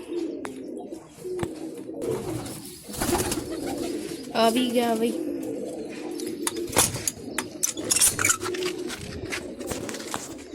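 Pigeons coo and call close by as they are released while someone talks over them, with a few brief bursts of fluttering and rustling.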